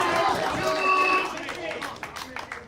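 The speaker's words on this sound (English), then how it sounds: "And the crowd support has found their voice." A crowd cheers and claps at a pool championship quarter-final, a loud, dense roar of voices that swells, then thins into scattered claps and shouts near the end.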